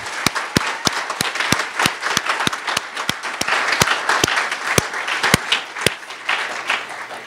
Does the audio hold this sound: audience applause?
yes